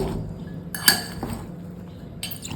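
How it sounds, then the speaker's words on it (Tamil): Weight loss salad ingredients tossed together in a bowl, giving soft clinks and a sharper knock of utensil against the bowl, with quieter rustling in between, close and moderately loud. "இப்போ எல்லாத்தையுமே நம்ம மிக்ஸ் பண்ணிடுவோம்."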